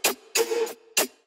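Three bright synth clicks shaped by multiband compression and a notch EQ that moves on each note give a punchy mid-range snap, the middle hit held longer with a wavering tone, close and without voices.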